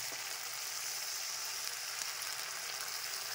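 Mutton masala frying in oil, a soft, steady hiss of sizzling throughout with no break, fairly faint and heard close without any voices.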